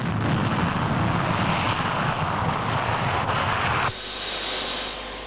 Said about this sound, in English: Panavia Tornado, backbone of the RAF's contribution to NATO.